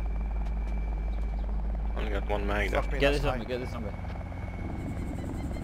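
Helicopter drone from an NPC chopper in the DayZ mod, a steady low rotor hum running under the whole stretch while someone talks briefly in the middle.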